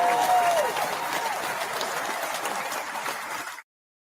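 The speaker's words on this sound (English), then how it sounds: "Had to get to that applause button." An applause sound effect from a studio button plays as a burst of crowd clapping that starts full, holds steady for about three and a half seconds, then cuts off abruptly.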